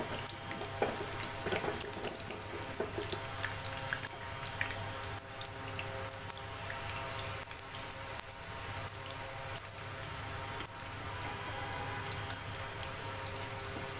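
Saffron malpua batter fries in a wide frying pan, a steady dense sizzle and crackle of hot oil that holds evenly close by with no talk.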